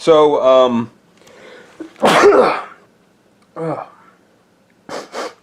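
A person talks briefly, then a single loud sneeze bursts out, followed by a few quieter vocal sounds and short exhalations.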